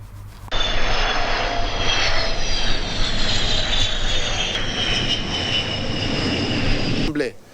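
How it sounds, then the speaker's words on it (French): Russian-type Angolan Air Force fighter jets flying over an air show in Kinshasa, a loud sustained engine roar with whining tones that slowly drift downward as the aircraft pass, starting abruptly and fading near the end. "2 avions de chasse de type russe appartenant au FANA, les forces aériennes angolaises, ont paradé à Kinshasa"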